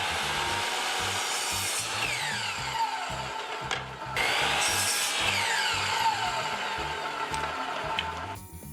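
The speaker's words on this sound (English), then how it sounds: "Then I took them over to the miter saw to chop off the rough ends and make them a consistent length." A miter saw chops the rough ends off pallet boards, its whining motor running steadily with two cutting passes through the wood, close and fairly loud.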